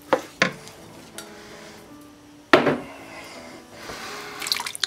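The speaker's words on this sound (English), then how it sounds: "And 14 ounce can of crushed tomatoes. Let's stir that in." A spoon scrapes and clanks against a pot as crushed tomatoes from a 14-ounce can are stirred into a vegetable soup with frozen corn. There are a few sharp knocks, then softer sloshing stirs, and no talk.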